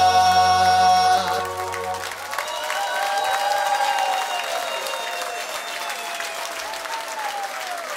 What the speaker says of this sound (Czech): Ďakujeme za tento krásny potlesk, priatelia